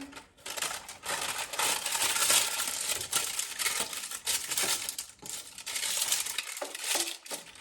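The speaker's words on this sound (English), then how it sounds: "So I'm gonna line it with parchment paper." Parchment paper crinkles and crackles up close in repeated bursts as a sheet is pressed and folded to line a baking pan, with short pauses between handlings.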